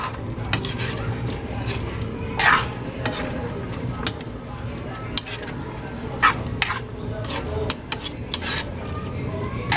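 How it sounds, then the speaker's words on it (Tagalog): A utensil stirs food frying in a pan, with steady sizzling throughout and repeated scraping clinks of metal against cookware, close and fairly loud without speech. "Konting halo na lang."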